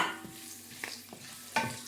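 Curry leaves tempering in oil on a stove for egg biryani, a quiet, soft sizzle with a few light taps and stirs.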